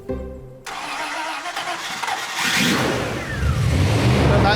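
A 1960s Facel Vega car engine cranks and catches, then settles into a loud rumble before revving up harder, close by and dominating.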